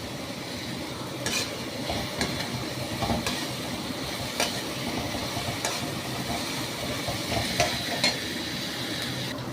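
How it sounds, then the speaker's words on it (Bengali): Onion sautéing with garlic and ginger in a pan over a high flame, a soft continuous sizzle with occasional scrapes and clinks of a stirring spoon, fairly quiet and without talk. "পেঁয়াজটাকে রসুন আদা দিয়ে কষাচ্ছি।"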